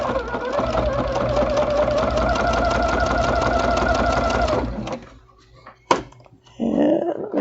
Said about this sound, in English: the walking foot is doing a great job drawing that fabric through